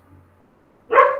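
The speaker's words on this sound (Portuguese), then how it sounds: "Tem uma cachorrinha que chama Chewbacca" A small female dog lets out a single sharp bark near the end, loud and close, after a near-silent stretch.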